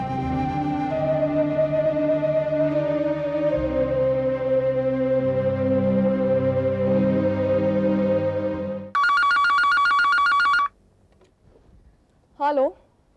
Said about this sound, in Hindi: मालविका, मैं तुम्हें अभी फोन करने वाली थी।